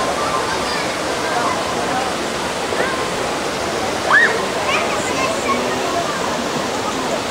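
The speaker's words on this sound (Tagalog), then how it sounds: "ito yung Salipit Falls ng Alfonso, Cavite" Salipit Falls in Alfonso, Cavite pours with a steady, loud broadband rush of falling water that fills the whole scene, with faint voices and brief splashes mixed in.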